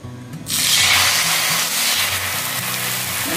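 Rice-flour batter for Malvani ghavne hits a hot oiled pan and bursts into a loud, steady sizzle that starts abruptly and holds, with low clatter underneath.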